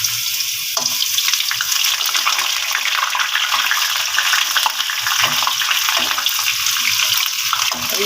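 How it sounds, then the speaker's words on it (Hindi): Garlic sizzles in hot oil with a loud, constant crackling hiss and occasional brief stirring or spatter bursts, steady throughout. "मैं लहसुन को ऑयल में ऐड करूँगी ताकि वो अच्छी तरीके से ब्राउन हो जाए"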